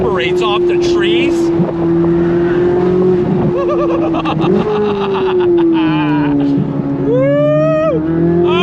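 C8 Corvette Z06 engine roaring loud and close, with a sustained drone that rises and falls as it revs, echoing off surrounding trees while a person talks over it.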